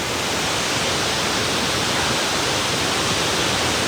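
A waterfall in Nuwara Eliya, Sri Lanka, gives a constant, dense rushing roar of falling water that stays even and loud from start to end, with no voices.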